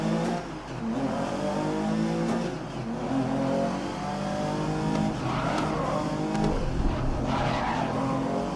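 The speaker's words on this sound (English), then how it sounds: "The sound in this car is just amazing good." Porsche race car in GRID 2019 on a short track: a loud, continuous engine roar that rises and falls through the gears, with tire squeal and skidding under the revving, and no talk.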